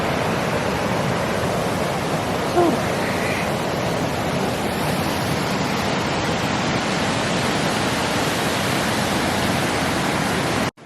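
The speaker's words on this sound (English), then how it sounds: "We made it to the waterfall" A steady, loud rush of falling water from a waterfall near Playa Negra, Costa Rica fills the scene without letup; a person briefly exhales once near the start.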